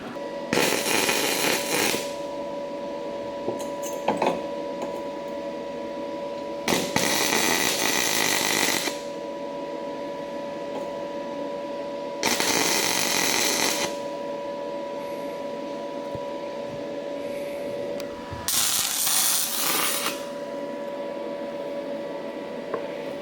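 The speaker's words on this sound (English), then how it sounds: "So we're gonna let Justin weld the ladder part, the part that we're gonna be stepping on" Welding on metal ladder parts for a vehicle build produces four loud, crackling bursts of a few seconds each, separated by pauses filled with a steady background hum.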